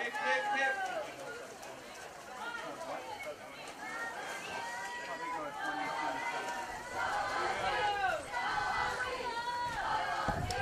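A crowd at a Micronesian swimming championship final cheering and calling out over steady chatter, with voices rising and falling throughout.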